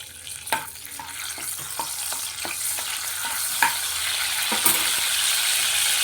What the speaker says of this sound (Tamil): இப்போ இந்த எண்ணெயில் ஒரு கொத்து கருவேப்பிலை உருவி போட்டுக்கலாம்